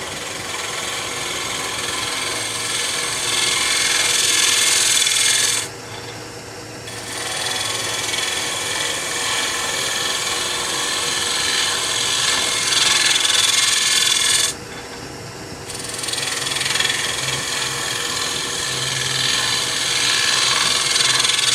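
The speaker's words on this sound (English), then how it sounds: "I'm going to use the scraper." A scraper shaves a small wooden toothpick spinning on a wood lathe, a steady close rasping hiss that runs on continuously, broken by two brief pauses where the cut lifts off.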